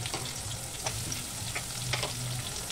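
Onions frying in hot oil make a continuous close sizzle with occasional stirring scrapes, fairly quiet, over a low hum and without speech.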